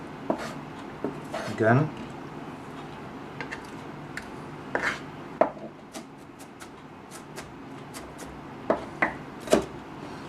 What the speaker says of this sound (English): you just push the onions in the direction of the cutting in the knife, just like that